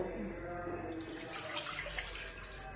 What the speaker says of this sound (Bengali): কড়া বসিয়ে দিয়েছি, এবার আমি জল ঢেলে দেব